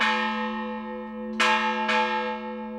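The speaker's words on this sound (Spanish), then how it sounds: "El sonido rápido de la campana volante servía de acompañamiento de fondo al repique de las otras en los días de fiesta" Church bells rung by hand in a tower sound close and loud: a long ringing tone decays, then two quick fresh strikes follow about half a second apart, each leaving a rich lingering hum.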